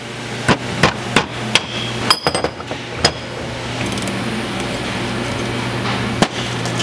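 Hardened key hammered into a VW transaxle main shaft: a quick series of sharp metallic hammer strikes, several close together, then a pause and a single final blow, loud and near over workshop hum.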